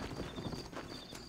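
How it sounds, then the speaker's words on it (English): A horse clip-clopping in Red Dead Redemption, a dense run of hoofbeats over a constant rumbling ambient bed, close and fairly loud with no talk. "Here's your horse, friend."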